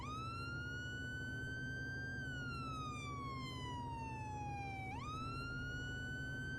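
A fire engine's Q mechanical siren winds up and slowly sags in pitch, then winds up again sharply, a continuous loud wail over steady engine rumble.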